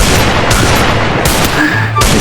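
Rapid bursts of gunfire from a mobile shooting game in a one-on-one lone wolf match, loud and continuous with short gaps between volleys.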